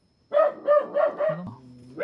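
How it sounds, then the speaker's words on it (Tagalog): A dog barks four times in quick succession, loud and close, with short gaps between the barks. A lower, fainter dog sound follows. "Nag-iingay ang aso."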